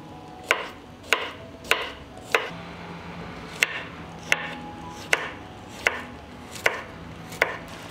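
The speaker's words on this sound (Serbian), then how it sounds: "Dok se paprika prži, iseckat ću 2 glavice belog luka." Garlic cloves chopped with a knife on a board, about ten crisp, evenly spaced chops close by over a quiet background, with no speech.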